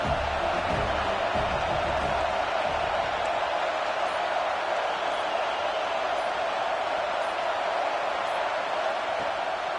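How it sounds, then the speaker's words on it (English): A college football stadium crowd roars in a dense, continuous wash of cheering and noise that holds steady and loud for the whole stretch, with no clear single voice. "This crowd bringing the energy and noise early."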